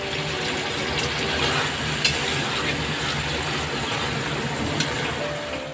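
Chicken pieces and tomatoes cook in a pan with spices, giving a steady moderate frying sizzle with occasional stirring clinks and scrapes, heard close and without talk.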